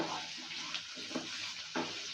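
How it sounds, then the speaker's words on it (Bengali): Cut potatoes frying in a pan with dhenki shak, a soft continuous sizzle broken by several scraping stirs of a spatula at irregular intervals, close and fairly quiet. "আলুটা দেওয়ার পর ভালো করে নেড়ে চেড়ে নিচ্ছি।"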